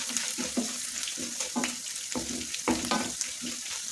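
Onions and curry leaves sauté in hot oil in a pan for lemon rice, with a steady sizzle broken by repeated spatula stirs and scrapes at close range.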